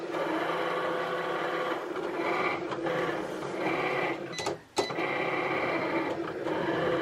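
Cricut Explore Air 2 cutting machine working through leather, a continuous whirring motor hum with faint clicks and a brief pause near the end, steady and fairly close with no talking.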